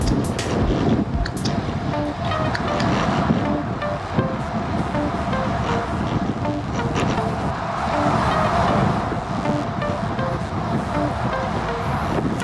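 Wind rushes hard past a group of cyclists riding fast at about 46 km/h, a steady loud roar with road hum filling the whole stretch, with no talking.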